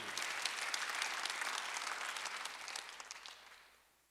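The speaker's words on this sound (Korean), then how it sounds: "박수를 하나 주세요." Church congregation breaks into warm applause during a Sunday sermon, a dense wash of clapping from a full room that holds steady and then fades out over about four seconds.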